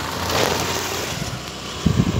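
A road vehicle drives past, a brief, moderately quiet engine rumble and tyre noise with a slight swell near the end.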